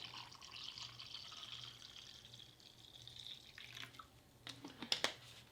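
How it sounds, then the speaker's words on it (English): Water runs steadily into a container for a homemade ration drink, a soft continuous pour that rises slightly in pitch, then ends with a few clinks and splashes near the end. "I'll get some water in my drink really quick."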